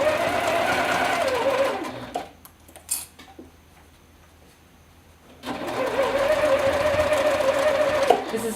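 A sewing machine top stitching around the top edge of a bag seam runs in steady close bursts, stops for a quiet pause with a few small clicks, then starts stitching again without talk.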